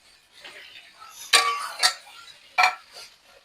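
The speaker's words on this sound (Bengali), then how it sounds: "এবার এই ভাজা আলুগুলো দিয়ে দেবো" Fried potatoes tipped into a pan of chicken liver curry bring a few sharp metallic clinks and clatters of utensils against the pan, spaced apart over quiet background.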